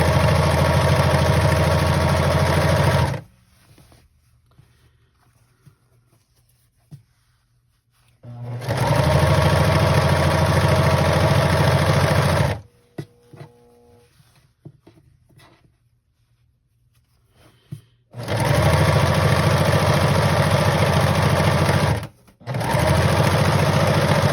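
Sewing machine back-stitching fabric for a vintage hamper made from TV trays, running in three long loud buzzing bursts and a short final one, separated by quiet pauses with faint handling noises.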